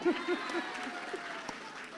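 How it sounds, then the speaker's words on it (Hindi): An audience claps at a live couples' stage event, brief scattered applause of a few beats that fades into room ambience, with no talk over it. "पहली ताली पत्नी के लिए जिन्होंने ने सही जगह पे डाला है, करेक्ट, और दूसरी ताली ऐसे पति के लिए जो पत्नी की बात माने।"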